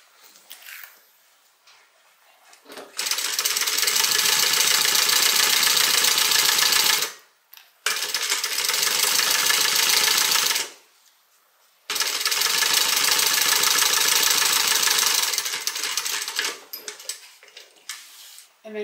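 Sewing machine basting the lining of a quilted tote bag, running in three long continuous bursts with brief pauses between, loud and close.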